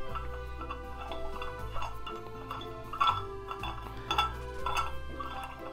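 A metal lobster-shaped handle is twirled onto a Staub cast-iron cocotte lid, giving a series of small metallic clinks and ticks in an irregular rhythm, close and fairly quiet.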